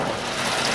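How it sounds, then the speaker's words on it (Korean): A steady, close idle from a Kia sedan engine with the hood open, a whirring fan-like hum from the spinning V-belt, continuous and even throughout. "그냥 V벨트 살짝 돌아가는 소리는 우리 집에서 나는 선풍기 정도의 소음이에요."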